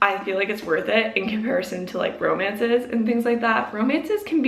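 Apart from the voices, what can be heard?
No everyday noises stand out.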